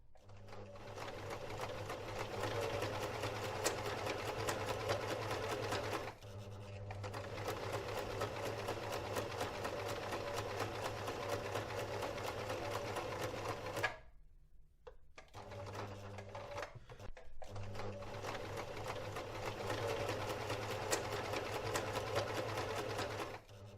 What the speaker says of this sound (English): the next step will be to sew it together.